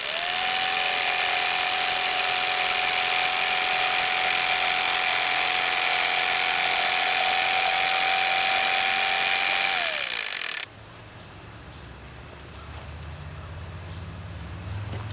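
A power tool cuts through a clamped piece for a pegboard stand, a loud steady whine holding for about ten seconds before winding down, followed by quieter low rumbling and handling noise.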